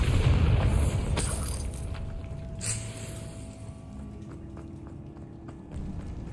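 Bombarda spell blast in Hogwarts Legacy, a loud booming impact at the start that rings out and decays into quieter rumbling debris and ambient game sound.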